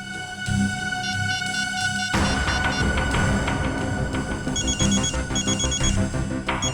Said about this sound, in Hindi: श्रेया, जरा सागर के फोन पे कॉल करना